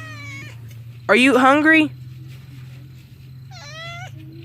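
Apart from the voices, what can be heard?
pet cat meowing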